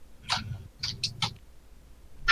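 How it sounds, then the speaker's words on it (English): A cat gives a few short, distinct vocal calls in quick succession, fairly faint with quiet pauses between them. "Sounded like it was cat related."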